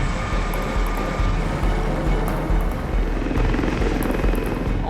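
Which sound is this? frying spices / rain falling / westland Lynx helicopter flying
westland Lynx helicopter flying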